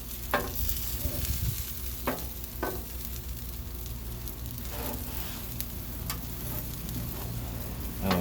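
Thick pork breakfast quesadillas crisping on a Blackstone griddle over high heat, giving a steady loud sizzle with occasional sharp clicks and scrapes, no voices.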